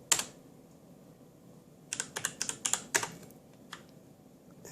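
Keys clatter on a computer keyboard while a command is entered to run machine language code for a 6809/6309 system, a single tap followed by a quick burst of close, crisp keystrokes and a final stray tap.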